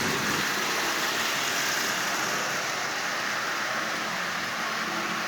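Running Marx toy train fitted with a Marx 1666 motor and a modified 898 shell, giving a steady, close, unbroken whirring hum that holds at one level throughout with no pauses.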